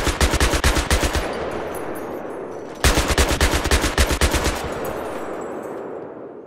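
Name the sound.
vehicle-mounted gun firing in Battlefield 3 video game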